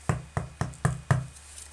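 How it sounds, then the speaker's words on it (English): Five firm knocks on a wooden door, evenly spaced about a quarter second apart, close and clear with no voices. "and they knocked at the door"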